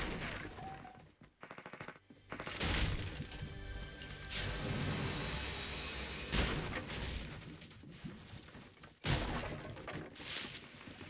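Gunfire in the Fortnite video game: dense bursts of shots and crackling impacts that fill most of the stretch, loud and continuous with brief gaps and a sharp report near the end.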